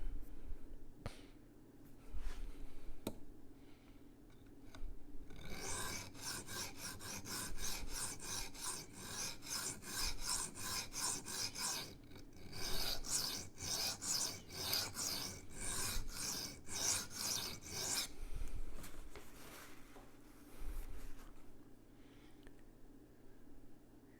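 A Rough Ryder Half Hawk knife is stroked against a sharpening stone, giving a rapid run of rhythmic, raspy scraping strokes, close and fairly quiet, with a few isolated scrapes before and after the main run.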